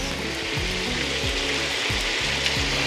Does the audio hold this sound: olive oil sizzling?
yes